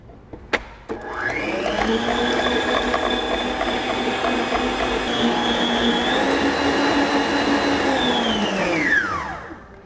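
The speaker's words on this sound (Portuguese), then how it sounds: "a gente vai bater o nosso creme de leite fresco" An electric mixer whips fresh cream with 35% fat, running as a steady loud motor whine with a whirring beater rattle for about nine seconds before spinning down at the end, with no talking.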